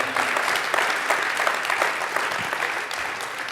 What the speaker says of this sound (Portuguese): Kannst du Gott einen Applaus geben?